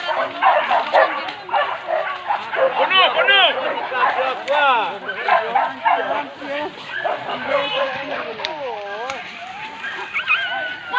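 Hunting dogs bark, yelp and whine excitedly and almost continuously during a wild boar hunt in the hills of Silasiah, Sungai Sariak, close by, with men calling out over the pack.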